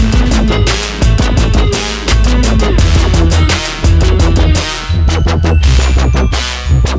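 Synths and bass run through OTT multiband compressor plugins form a dense, loud, bright electronic mix with pumping rhythmic bursts and heavy low end, continuous with brief dips, no voices.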